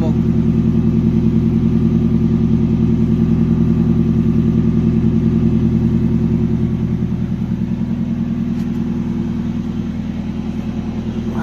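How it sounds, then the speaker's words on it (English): A 1999 Mitsubishi Colt 2.0 long-wheelbase single-cab bakkie idles close by, with a steady, even low engine rumble that holds for the whole stretch and eases slightly near the end. "let's uh, check the engine bay again while the car is idling"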